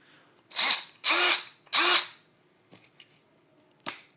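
Stanley SFMCD710D2K cordless drill driver whirring in three short close bursts, each a loud spin-up and stop, followed by a few faint clicks and a brief final blip.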